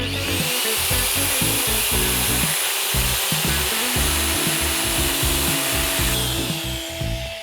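A TK 1500 deburring machine chamfers metal edges with a steady, loud grinding whir, the cutting rasp rising and falling in rapid chattering pulses throughout, close up with no speech.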